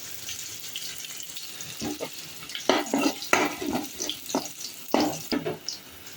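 Fennel seeds and curry leaves frying in hot oil in a pan for a Sri Lankan fish curry, a soft sizzle under sharp scraping stirs and spoon clinks that come in quick bursts in the second half.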